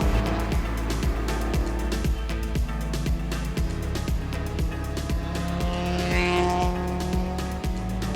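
In-car engine drone of a race car during a 24 Hours of LeMons endurance race as a red BMW E30 passes, a loud steady rumble with rhythmic mechanical clatter and a faint tire squeal.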